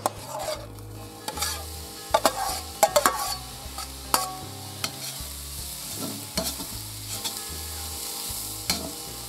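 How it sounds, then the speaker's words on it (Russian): Vegetables sizzle in hot oil in a kazan, with a spoon scraping and stirring in intermittent clacks over the steady frying. "Добавили маслица еще чуть-чуть и обжарим эту овощную"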